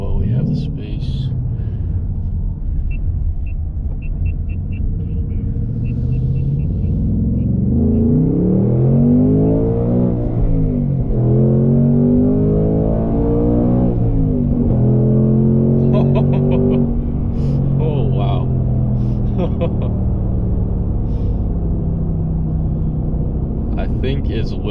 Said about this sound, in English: Let's go ahead and get another first gear in here while we have the space.